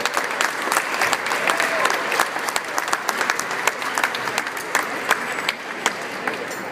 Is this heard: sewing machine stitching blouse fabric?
no